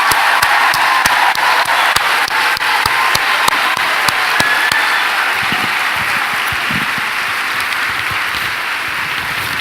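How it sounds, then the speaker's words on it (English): Loud, dense applause from an audience at a teacher appreciation event as certificate recipients stand, steady clapping for nearly ten seconds with a few sharper individual claps standing out. "let's give them a wild round of applause"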